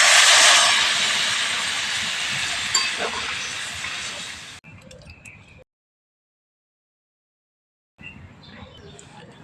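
Water poured onto cooking lentils in a hot pan hisses in a loud, bright burst that slowly fades, then cuts to quieter kitchen sounds, a silent gap and more faint stirring.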